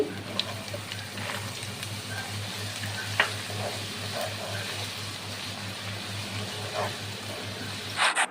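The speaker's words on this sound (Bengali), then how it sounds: "তো পেঁয়াজটা ভালো করে ফ্রাই করে নিয়েছি" Chopped onions frying with bay leaf, cloves, cardamom, cinnamon and raisins in a non-stick pan, a steady close sizzle throughout with occasional stirring scrapes and a brief clatter at the end.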